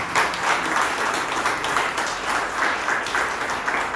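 A church congregation applauding together, a steady mass of clapping that holds evenly for several seconds with no speech over it.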